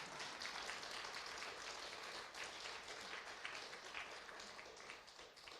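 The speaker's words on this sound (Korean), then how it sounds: "박수를 쳐서 하나님께 영광을 돌리라는 거예요." A church congregation at a Korean revival meeting claps together in a faint, continuous patter of many hands, heard from a distance with no voices over it.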